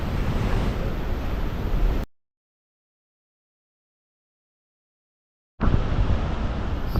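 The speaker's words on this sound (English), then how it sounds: "So yet again, this beautiful Petrohué waterfall." Petrohué waterfall in Chilean Patagonia, with Osorno volcano nearby: a loud, steady roar of rushing water that cuts out to silence for about three and a half seconds, then returns just as strong.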